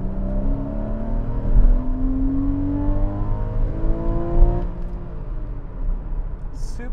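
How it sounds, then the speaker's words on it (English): A 2014 Porsche Cayman driven hard in sport mode with traction control off, its engine rising in pitch through repeated full-throttle pulls and gear changes, heard from inside the cabin at moderate loudness. "Super smooth engine. It revs up really high."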